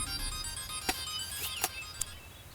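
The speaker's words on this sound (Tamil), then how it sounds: "ஃபோன்." A phone ringtone chirps in short bright bursts against a quiet interior at low level, with three distinct tonal pulses spaced about half a second apart and no talking.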